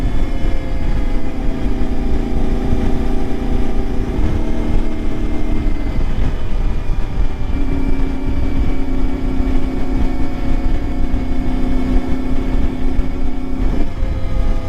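An Ibex 450 motorcycle with an upgraded ECU rides along the Ortega Highway on a cool morning, its engine holding a loud, steady drone with slight shifts in pitch, mixed with constant wind rush.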